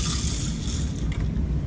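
Tap water gushes and sprays over rice being washed in a kitchen sink, a brief, steady, close rush of running water with no voices.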